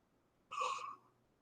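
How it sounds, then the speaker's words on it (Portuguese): A yawn: a single drawn-out breathy exhale with a voiced, slightly tonal middle, close to the mic and alone, lasting about half a second before fading. "desculpa aí pelo bocejo"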